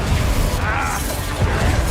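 Confringo blasting spell cast in the Hogwarts Legacy video game, a muffled burst and rumbling boom over dense game noise, with a brief whooshing streak midway.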